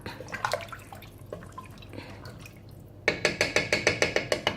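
Water poured from a large glass into a cooking pot of white beans, splashing softly at first, then a run of quick bright glugs and drips in the last second and a half, close and fairly quiet.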